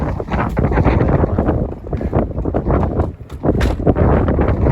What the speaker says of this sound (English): So there's a ton of wind today.